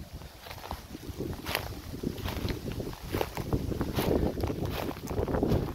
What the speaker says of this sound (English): Quite windy, as you can see.